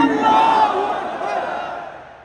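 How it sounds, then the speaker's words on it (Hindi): A large crowd at a gathering in Badshahi Masjid, Lahore, roars the takbir slogan in unison. The loud, swelling collective shout fades off over a couple of seconds. "दीजिए नारे तकबीर"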